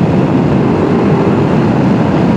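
A 2021 Ducati Multistrada V4 S motorcycle accelerating hard in sixth gear: a loud, steady engine roar that holds a dense, sustained pitch throughout, continuous and close with no voices over it.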